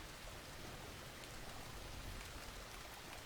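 Steady, even rain falls in the farming video game Farmer's Dynasty, a soft continuous hiss with no breaks and no voices.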